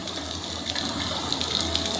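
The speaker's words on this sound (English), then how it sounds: "Oh wow, I love these water sprinkler steam effects." Steady hiss and gush of water sprinkler steam effects in the Destiny 2 video game, a continuous close spray with faint bright spits, no talking.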